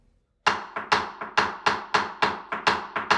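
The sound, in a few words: tibwa sticks beaten in Gran Bèlè rhythm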